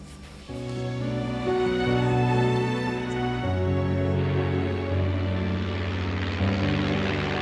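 A propeller plane's engine drones loudly and steadily, its pitch shifting partway through as the aircraft changes attitude and climbs.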